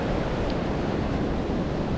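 Steady wash of ocean surf breaking on a Phuket beach, a continuous close roar with wind noise and no speech.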